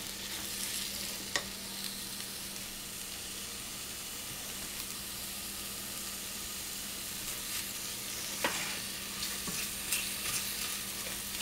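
Onions cooking in a pot for broccoli cheese soup give a steady, soft sizzle. It runs on without pause, with a few faint clicks and stirs and no talking.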